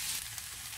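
Poultry thighs frying in a pan for a pastilla, a steady dense sizzle close up that holds evenly throughout with no voices.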